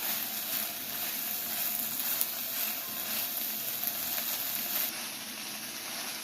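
Vegetables for a vegetarian lasagna sautéing in a pan with green onion, a steady soft sizzle and hiss running evenly throughout with no voices.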